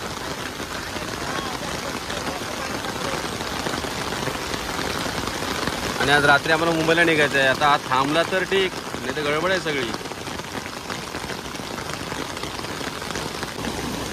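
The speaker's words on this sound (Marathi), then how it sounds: "पाऊस अजून वाढतोय" Heavy rain pours steadily through the whole stretch during a village river flood near Sondheghar Dam, with people talking over it throughout.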